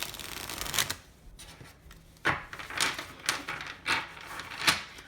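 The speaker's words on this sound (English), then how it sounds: "so I'm going to give it a quick shuffle" Triple Goddess tarot cards are shuffled up close in several quick riffling bursts, each a crisp flutter of cardstock, with short pauses between them.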